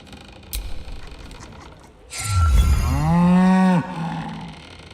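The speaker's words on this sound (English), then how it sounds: "It appears to be an ordinary sheep." A single long, low bleat from a sheep in Baldur's Gate 3 rises and falls after a quiet start, sounding close and loud before fading into soft background noise.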